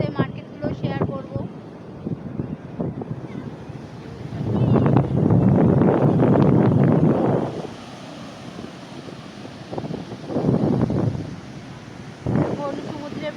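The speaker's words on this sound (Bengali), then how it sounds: "এখন সমুদ্রের পাড়ে বসে হাওয়া নিচ্ছি" Sea breeze buffeting the microphone on Puri beach at evening, a broad rumbling wind with louder gusts at intervals, under intermittent talk.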